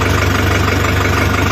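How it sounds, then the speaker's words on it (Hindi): Sonalika 750 triple-high tractor engine running at slow speed with no load, driving a double pump, a loud, steady diesel idle with an even low-pitched throb close by. "और ये सोनालिका 750 ट्रिपल हाई ट्रैक्टर है, और बिल्कुल स्लो स्पीड पे चल रहा है"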